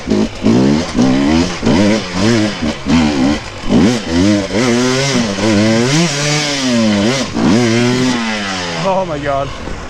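A two-stroke enduro motorcycle revs hard and close as its wheel spins, with a buzzing, wavering engine note that rises and falls in repeated bursts, and voices talking over it.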